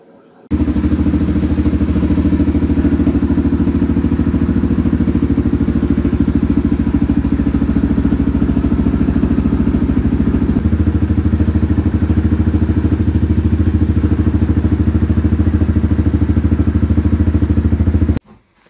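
A Yamaha Grizzly 700 ATV engine runs steadily and loudly up close, a dense, even mechanical drone with clattery texture that shifts slightly in pitch midway before cutting off abruptly.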